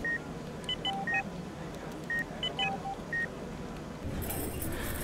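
Electronic tones from a phone placing a video call, in short repeated beeps of two alternating pitches, fairly clear over background noise, then a hissy burst at the end.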